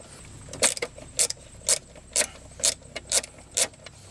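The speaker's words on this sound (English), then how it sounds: "I'm just using this ratchet with the head bent." A bent-head ratchet tightens a screw on a Ford Escort / Mercury Tracer AC relay module, giving seven crisp, evenly spaced ratcheting clicks close up, alone with no talking.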